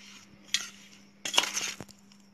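Broccoli pickle being stirred with mustard oil and vinegar, a few short scraping clicks of a spoon against the bowl, close by, with a low steady hum underneath.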